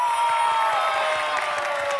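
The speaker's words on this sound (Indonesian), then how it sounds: "Kasih tepuk tangan, semangat untuk kedua tim." A live audience cheering and applauding for both teams during a game: a loud, continuous roar of cheers and clapping.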